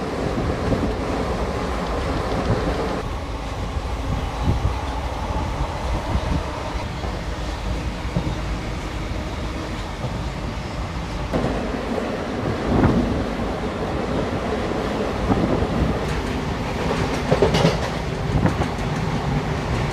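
The Guntur-Rayagada Express, a passenger train, runs at speed with a continuous loud rumble and rushing roar, broken by faint rhythmic clatter from the wheels.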